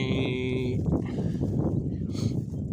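A cow on a Thai farm on a cold, windy day gives a clear, close moo lasting about a second, followed by rustling and a shorter lowing sound, with faint background noise.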